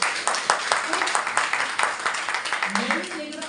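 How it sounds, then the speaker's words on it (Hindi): A small audience at a training session clapping, rhythmic rapid handclaps close by and steady across the moment, with a voice coming in briefly near the end. "तालियां बजाओ"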